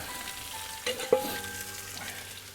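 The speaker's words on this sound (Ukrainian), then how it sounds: "Тепер беремо і всипаємо сюди всю нашу цибульку." Chopped onion poured into a hot kazan over a campfire while plov is being made, giving a soft steady sizzle with a couple of clinks and rustles from stirring, fairly close and without talk.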